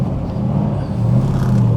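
A 1969 Chevrolet Corvette L88 pulling out of a parking lot in Clifton Park, New York, heard as a low, steady engine rumble from inside the car, rising slightly toward the end.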